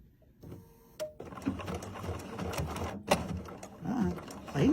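A BERNINA sewing machine runs a number 2 zigzag stitch over lace with an adjustable gliding cup foot, giving a close, steady mechanical whirr with rhythmic stitching ticks. There is a short pause near the start and faint noise in the background.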